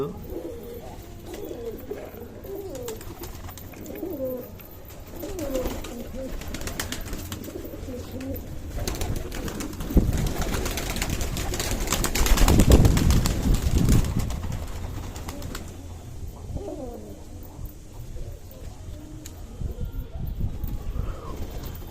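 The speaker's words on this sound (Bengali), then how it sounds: "এই হচ্ছে আমার পায়রা যেমনটা তোমরা দেখতে পাচ্ছ" Pet pigeons coo continuously in their loft, soft throaty burbles from several birds at close range, with occasional rustling and wing movement and a brief louder stretch midway.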